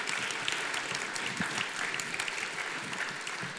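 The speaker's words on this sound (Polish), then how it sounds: "brawa dla naszej loży mędrców." A room full of people at a symposium claps steadily for a few seconds, a dense, even round of applause.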